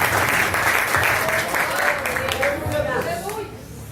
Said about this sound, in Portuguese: E as palmas exaltam o Rei Jesus.